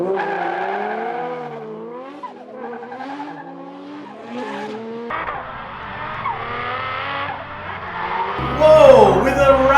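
Drift cars, Ford Falcons and Nissan Silvias, battle in a drift league event, with tyres screeching and squealing in long wavering tones over revving engines, growing louder toward the end.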